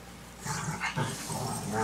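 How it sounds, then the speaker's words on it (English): A dog whimpers and growls briefly at close range indoors, a short, strained whine with low rumbling under it, and a voice partly overlaps. "That's my dog."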